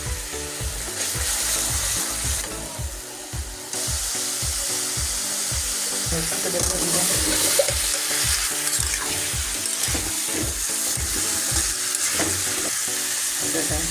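Spices with turmeric powder and salt frying in a pan for hilsa fish curry, a continuous sizzle under rhythmic, repeated knocks of a spoon stirring against the pan.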